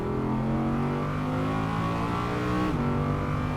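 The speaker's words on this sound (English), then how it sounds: "the main feature, the masterpiece, is, of course, that V10 engine" An Audi R8 V10 sports car engine revving hard nearby, its pitch climbing steadily before a brief dip at a gear change, loud and continuous.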